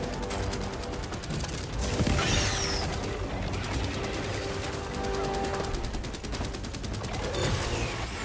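Rapid gunfire and bursts from the Helldivers 2 battlefield rattle continuously at moderate loudness, with dense overlapping shots and mechanical clatter.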